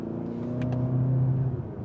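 A 2027 Kia Telluride with a V6 accelerates from inside the cabin, a smooth engine hum rising steadily in pitch over a couple of seconds, moderately loud and steady.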